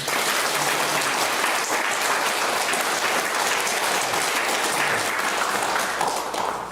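Steady, dense applause from a congregation at a Korean Sunday worship service, loud and even throughout with no letup.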